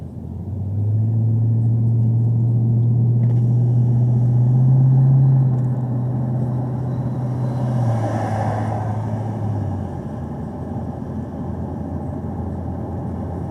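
A Chevrolet Camaro ZL1 with a manual gearbox rumbles loudly, its engine pitch holding and then dropping as it downshifts, with steady road noise continuing afterward.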